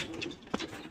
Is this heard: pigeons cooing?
yes